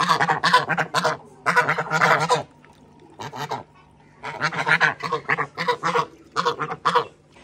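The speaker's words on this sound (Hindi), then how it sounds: "ये बतखें जो हैं गर्मी की वजह से हांफ रही हैं" Several ducks panting from heat quack loudly and close by in rapid bursts of harsh nasal calls, with short pauses between the volleys.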